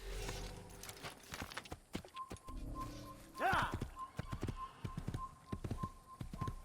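A horse in the Assassin's Creed video game clip-clops along in a series of sharp, spaced hoof knocks, with a whinny in the middle and a thin whistling tone; voices are present but no words come through clearly.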